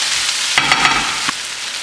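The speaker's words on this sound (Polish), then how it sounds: "dodaję przygotowaną wcześniej cebulę i smażę do czasu, kiedy cebula się zeszpi" Onion, white sausage and smoked bacon fry in a pan, a steady close sizzle broken by a few sharper crackles and stirring scrapes, with no voices over it.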